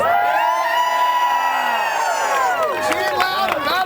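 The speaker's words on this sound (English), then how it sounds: "Can I get one more cheer for auditing the Fed, please?" Tea Party rally crowd cheering for auditing the Federal Reserve, with whoops and shouts rising over a sustained tonal ring that fades, then scattered yells and claps toward the end.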